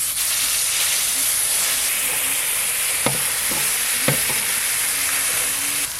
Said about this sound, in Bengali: কাঁচা লঙ্কা আর সেদ্ধ করে রাখা শিমের দানা একসঙ্গে বাটা আছে, দিয়ে দেব।